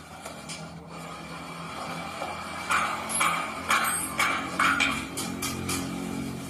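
Rasping strokes as the tabs of a brake liner are filed smooth in a small workshop, several short scraping bursts in a loose rhythm, fairly close.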